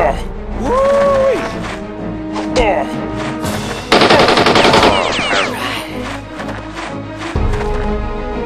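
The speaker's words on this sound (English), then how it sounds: "I have to reload my firearm." Firearm reloading in the video game Jagged Alliance 1.13, a run of loud mechanical clicks and ratcheting metal sounds mixed with bursts of gunfire and game effects, fairly close and busy throughout.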